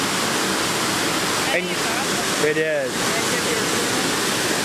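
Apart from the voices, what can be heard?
water pouring out of the Hoover Dam spillway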